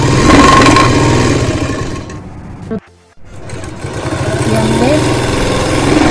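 Sewing machine runs loud and close in a fast continuous whir while stitching the folded waistband of a plain salwar, stops briefly, then resumes. Someone talks over the machine.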